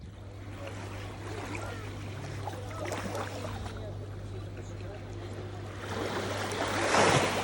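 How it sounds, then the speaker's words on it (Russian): Black Sea waves roll onto the shore in a steady, broad wash, with a low hum beneath and a louder surge of breaking water near the end, and someone speaks over it. "Вот оно, прекрасное Черное море."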